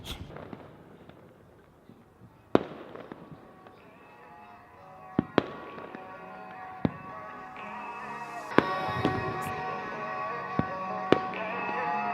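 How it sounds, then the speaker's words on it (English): Fourth of July fireworks bursting outdoors: a string of sharp, loud bangs at irregular intervals, some with crackling tails, over a steady tonal background. "start recording those, so stay tuned for the slow-mo capture of fireworks"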